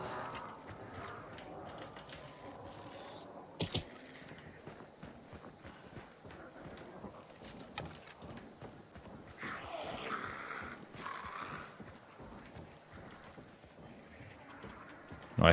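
Footsteps in the game Hunt: Showdown, a faint, irregular series of steps and shuffles that runs on and off through a quiet ambient background with a few sharper knocks.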